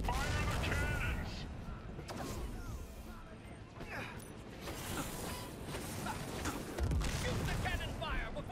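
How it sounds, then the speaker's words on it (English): Cannons fire in the video game Sunset Overdrive, with sharp blasts at regular intervals over a dense, noisy battle din. A loud burst comes near the start and another around seven seconds in, and creaking, mechanical game sounds run underneath. "Fire the cannons!"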